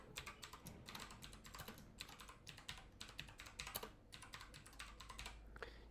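Rapid clicking keystrokes on a computer keyboard, quiet and close, come in quick irregular bursts with brief pauses between words.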